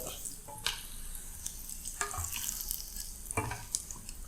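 Pakodas deep-frying in hot oil in a home kitchen, a steady busy sizzle with bubbling crackles and a few sharper pops throughout.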